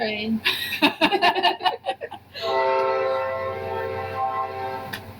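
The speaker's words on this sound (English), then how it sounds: "Train." A train passes close by, rumbling and clattering, then sounds a long, steady horn blast. People laugh and talk over the start of it.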